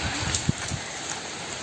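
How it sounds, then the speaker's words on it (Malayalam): Rain falls outdoors at a home during jackfruit picking, a short steady hiss of drops with a few soft patters on a surface and no voices. "ഇവിടെ മഴയാ"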